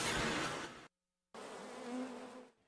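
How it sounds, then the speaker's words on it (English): Honeybees buzz loudly and close by in a dense, steady drone that cuts out for about half a second, then resumes and fades at the end. "all these buzzing bees"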